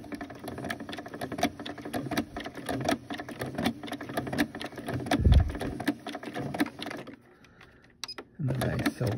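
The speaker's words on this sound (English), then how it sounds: "I try to sew through the top seam" A sewing machine stitching through rope along the top seam of a rope cup, rapid rhythmic needle clatter running for several seconds, briefly pausing near the end before resuming.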